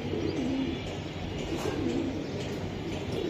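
Racing pigeons coo in a low, continuous murmur from a loft, several soft rolling calls overlapping against a steady background hum, with no talking.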